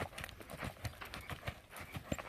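A horse canters on a circle while long-lined, its hoofbeats landing in a steady, rhythmic three-beat clip-clop at moderate distance, with a faint voice in the background.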